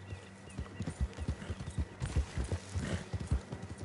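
A horse in Red Dead Redemption 2 trots along with rhythmic, muffled hoof clip-clops, close and moderately loud, repeating steadily over a low rumble.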